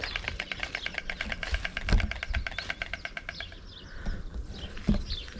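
White stork chicks in a nest tap their beaks to beg for food, a rapid, regular clattering patter lasting a few seconds, fairly close, with outdoor background noise.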